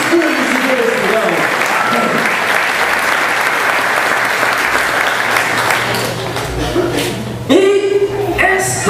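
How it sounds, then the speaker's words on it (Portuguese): A church congregation claps together in loud, sustained applause that fills the room for several seconds, then fades as a voice begins speaking near the end. "Dê um aplauso a Jesus Cristo."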